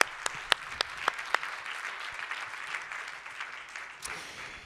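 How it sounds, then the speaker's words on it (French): Conference keynote audience applauds: a few crisp, distinct claps ring out first, then blend into a softer, sustained patter of clapping from a moderately distant crowd. "Je vous invite à les applaudir à mes côtés."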